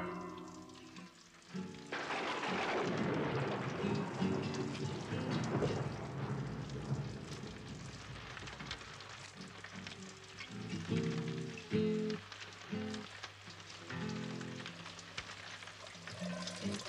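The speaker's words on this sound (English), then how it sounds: "God, I wish it had stopped raining." Steady rain falls in a continuous broadband hiss on a rainy Friday at a farm, unbroken for the whole stretch with a few lower knocks and thuds mixed in later on. No voices are heard.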